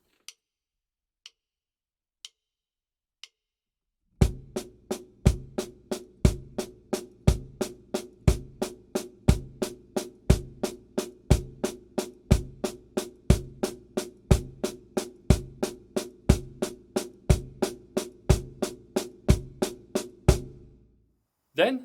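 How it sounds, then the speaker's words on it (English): Drum kit playing a polyrhythm: steady bass drum quarter notes under alternating hand triplets on a snare-like drum, after a few sparse isolated clicks at the start, with a crisp, close, even pulse throughout. "step number 1 is to play quarter notes in the bass drum and triplets alternating with your hands"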